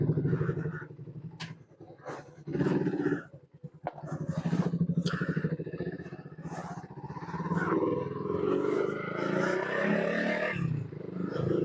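Roaring engine of a modified Yamaha New Vixion motorcycle fitted with wide rims on a test ride, loud and close, revving in uneven bursts with a brief dip before rising into a steady, strained run.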